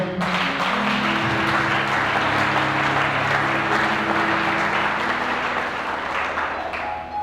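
A church congregation applauds during a sermon, a dense, sustained wash of clapping from many hands with some voices mixed in, loud and roomy from start to finish, fading slightly at the end.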